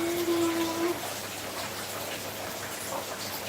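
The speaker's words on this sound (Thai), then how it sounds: "ฝนตกเยอะเหมือนกันน้ำเยอะนะคืนนี้" Heavy rain falls at night in Lampang, Thailand, giving a dense, steady patter of drops hitting surfaces. A brief faint tone rises over the steady downpour at the start.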